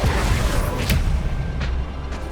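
A booming Expulsion spell blast in Hogwarts Legacy gameplay, a loud low rumble with sharp crackling bursts layered over it, fading slightly toward the end.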